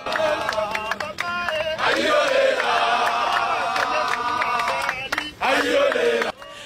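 Congolese crowd that defied the police shouts and chants loudly and continuously at an inauguration gathering, many voices overlapping, with brief dips.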